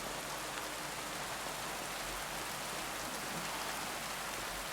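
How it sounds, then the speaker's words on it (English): Steady heavy rain in a medieval open-world game setting, a dense even hiss of drops pattering on surfaces, continuous and fairly loud with no talk. "Can we get out of the rain?"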